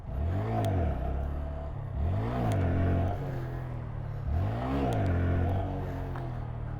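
A Honda Grom motorcycle engine revving during wheelies, rising and falling in repeated strong sweeps, loud and close with wind noise throughout.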